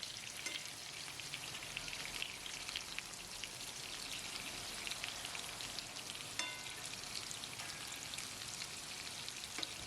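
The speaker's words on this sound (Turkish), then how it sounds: "Şöyle hafif alttan kızarmaya başladığı zaman ters çevirelim ve diğer yüzünü de kızartalım." Continuous crackling sizzle of oyster mushrooms frying in a pan, steady and close, with occasional pops and no voices.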